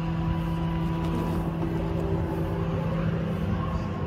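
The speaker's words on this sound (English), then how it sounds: "Got to switch your flow here, hydraulic flow up to the boom." A steady, loud hydraulic drone from the pump on an Altec AT37G boom mounted on a 2014 Dodge Ram 5500 4x4 bucket truck, holding an even hum with no gaps and no talk over it.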